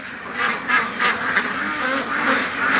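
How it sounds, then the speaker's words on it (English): Freshly woken Muscovy ducks in a pen give soft, breathy hisses and murmurs in quick repeated bursts, close by over a steady outdoor background. "I just woke these muscovies up"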